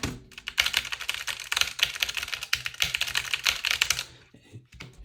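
Buttons on a Duelpad Flatbox Ultra arcade-style controller, version 1, tapped rapidly in a dense flurry of sharp plastic clicks for several seconds, close up and alone.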